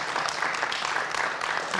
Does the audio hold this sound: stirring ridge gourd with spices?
no